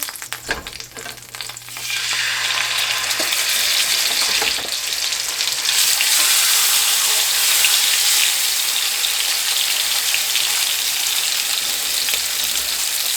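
Pork chops frying in a pan while a second batch is added give a loud, steady sizzle that rises suddenly after a short quiet start and then holds evenly.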